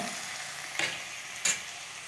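Onions fry in a pan for uppittu with a soft, continuous sizzle, broken by two short scraping stirs of a spoon against the pan.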